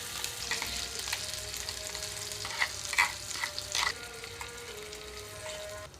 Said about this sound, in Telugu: తాలింపు అంతా వేగిపోయిన తర్వాత ఈ ఉల్లికారం మొత్తం ఇందులోకి వేస్తున్నాను